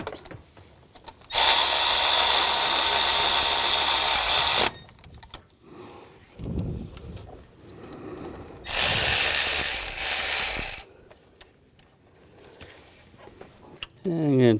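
A ratchet tightens the tensioner bolts during alternator replacement on a 2000-2006 BMW X5 3.0L inline-six, with two close, loud bursts of rapid clicking lasting a few seconds each and someone talking between them.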